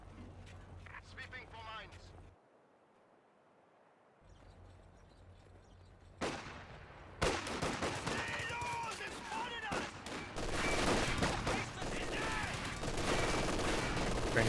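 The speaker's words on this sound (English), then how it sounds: "Grenadiers firing away" Grenadiers firing rifles in the World War II strategy game Company of Heroes 2, with bursts of gunfire and battle noise swelling after a quiet stretch, crowding together loudly with talk over it early on.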